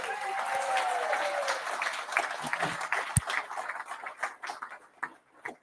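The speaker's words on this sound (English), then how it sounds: "Give yourselves a round of applause." A crowd at a political party launch in Newcastle claps in a moderate, fading round of applause, with a sharp knock partway through and the clapping thinning to scattered claps by the end.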